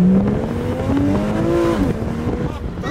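A Porsche 911 engine revs and accelerates up close, its loud, rising drone climbing in pitch in steps, with faint voices in the background.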